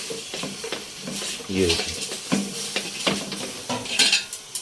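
Stirring mutton and onions in a hot pan with a steady sizzle and scraping of utensils, close up, while a person speaks briefly over it.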